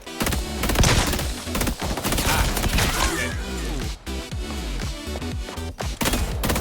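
Rapid gunfire in the video game Highguard, loud, close bursts of sharp repeated shots with brief gaps, with a voice speaking briefly among them.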